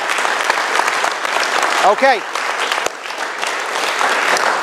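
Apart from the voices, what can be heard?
town hall audience applause for veterans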